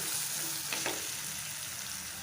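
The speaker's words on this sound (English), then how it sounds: "as this ginger garlic is frying really well" Constant sizzling and crackling of ginger and garlic frying in a hot pan, with a brief stirring scrape partway through.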